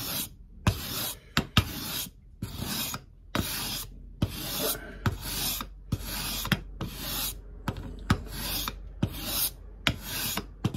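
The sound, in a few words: filing and crowning guitar frets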